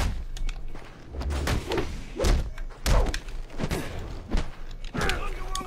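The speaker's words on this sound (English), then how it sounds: "Who's that getting his face punched?" Punches land one after another in a brawl in Batman: Arkham Origins, making loud, heavy thuds at an uneven rhythm with grunts and game sounds mixed in, while someone talks over the fight.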